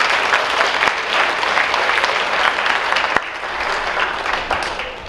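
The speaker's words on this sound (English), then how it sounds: "We could give all these kids a round of applause." Sustained applause from an awards-night audience honoring student athletes such as track runners, dense steady clapping filling the hall for about five seconds with a brief sharp clap standing out near the three-second mark.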